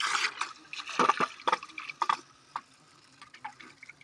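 Water runs from a tap into a balloon, splashing, trickling and gurgling irregularly at close range, with no talk.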